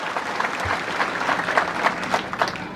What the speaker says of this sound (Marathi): एकदा टाळ्या वाजवून त्यांचं सुद्धा अभिनंदन आपण करा